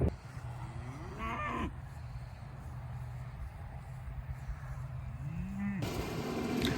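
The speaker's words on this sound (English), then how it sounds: "we got cows in the hayfield" Cows out in a hayfield let out two or three drawn-out moos, one near the start and one late, set over steady outdoor rumble and some low background noise.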